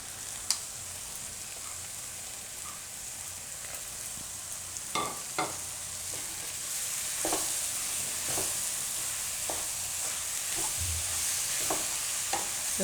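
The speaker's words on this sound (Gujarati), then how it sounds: "તો થોડીક વાર આપણે ટમેટા અને પાલકને થોડીક વાર પકાવી લઈશું. વચ્ચે વચ્ચે હલાવી લઈશું." Spinach and tomatoes cook in a pan with a low steady sizzle, broken by a series of spoon scrapes and knocks as they are stirred at irregular intervals, with no voices.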